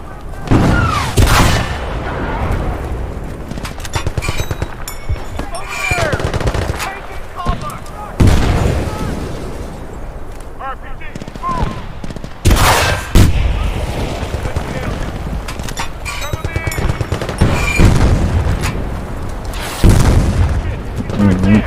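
Gunfire and heavy booms in Battlefield Bad Company 2 on PC: dense, continuous shooting with repeated loud blasts, some bursts sharper and closer, with voices faintly present at times.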